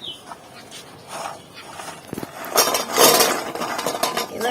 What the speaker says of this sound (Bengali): এগুলো নাড়াচাড়া করে মেশাতে থাকবো